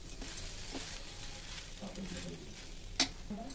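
Poha chivda sizzling in a pan as it is stirred, with soft scraping strokes over a steady frying hiss and one sharper clink near the end.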